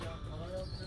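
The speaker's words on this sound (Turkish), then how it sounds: "Bunlar burada orijinal kuşların var." Soft, low cooing of pigeons close by in a coop, a brief murmuring call under a faint voice in a quiet space.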